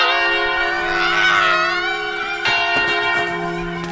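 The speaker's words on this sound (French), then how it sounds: "le son d'une cloche s'élève dans la montagne" A church bell rings in the mountains with sustained, shimmering tones, struck again partway through so the ringing swells and lingers, close and clear with no voices.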